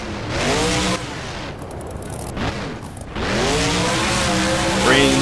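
A monster truck in the BeamNG driving game revs loudly and rises in pitch, with tire squeal and skidding as it swings around during a Monster Jam freestyle run in the Sun Bowl.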